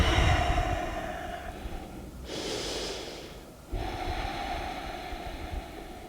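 Slow, audible breaths during a yoga session: a long inhale, a brief pause, then a long exhale, close and soft over quiet room noise.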